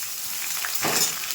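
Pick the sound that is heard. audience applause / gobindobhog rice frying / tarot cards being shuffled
gobindobhog rice frying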